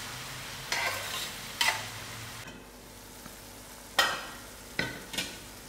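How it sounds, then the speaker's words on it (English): Salted tomatoes cook in a pan for banana kebabs, giving a soft, low sizzle under a few sharp scrapes of a spoon against the pan, spaced irregularly and heard up close. "With my tomatoes, I add in my salt to taste. Allow this to cook for a little while."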